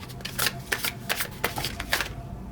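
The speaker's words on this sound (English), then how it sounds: "let's shuffle" A deck of tarot cards is shuffled up close, a quick series of crisp riffling bursts and soft slaps repeating in an uneven rhythm for a couple of seconds.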